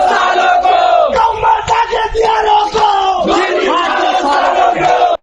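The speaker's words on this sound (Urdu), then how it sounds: "سوشل میڈیا پر گردش کرتی ویڈیوز میں ہجوم کو نعرہ لگاتے بھی سنا جا سکتا ہے" A mob chants slogans in loud, rhythmic unison, shouted phrases rising and falling close up in a harsh, crowded roar that cuts off abruptly at the end.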